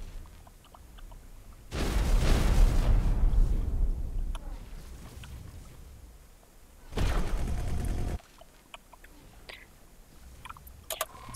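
Explosions in the space game X4: Foundations: two loud, rumbling blasts, the first rolling for about two seconds before fading, the second shorter and cut off abruptly, with quiet game sounds between them.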